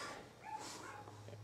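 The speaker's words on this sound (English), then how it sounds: "Dog barking." A dog barks a few short times in the background of an indoor room, faint and brief against quiet room tone.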